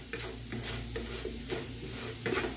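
Fishless curry is stirred and mixed in a pan, giving a steady, fairly quiet scrape and soft sizzle with regular swishing strokes about every half second, heard alone without speech.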